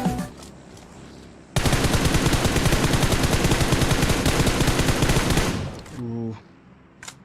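Sustained automatic gunfire in a battle royale match: a dense, rapid spray of shots lasting about four seconds, loud and close, followed by a few scattered shots and tail echoes, with faint game sounds before it.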